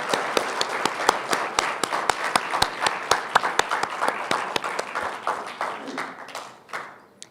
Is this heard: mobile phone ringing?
no